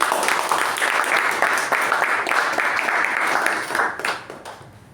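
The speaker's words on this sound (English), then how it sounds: "Let's give him a huge round of applause." A room of attendees at a Toastmasters club meeting gives a speaker a full round of applause, dense and steady for about four seconds before tapering off into quiet.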